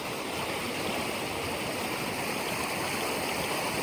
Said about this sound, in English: It's a flash flood again. It washes our driveway again.